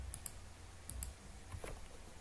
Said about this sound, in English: We have to type it manually